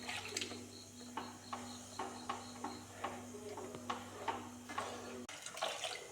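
Small splashes of leftover water poured from a tomato-juice blender jar into a pan of fish curry, a few faint near pours and drips over a steady background hum, with no talk.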